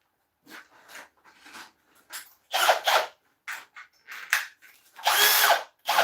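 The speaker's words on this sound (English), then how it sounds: "So what I like to do, get the drill driver out." A cordless drill driver fitted with a sanding attachment, used while woodturning an oak bowl, fires in short bursts of whirring that start and stop with brief silences between them, some bursts longer and louder than others.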